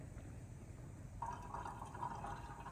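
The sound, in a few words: pouring water to make drip coffee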